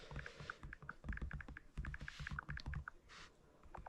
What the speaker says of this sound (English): I cannot see what I'm typing